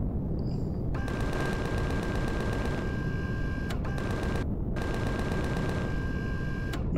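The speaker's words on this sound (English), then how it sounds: "there's something firing me, probably from the base itself" Steady automatic gunfire from an enemy base in Empyrion Galactic Survival, rapid shots in long bursts with two short pauses, fairly loud over constant background rumble.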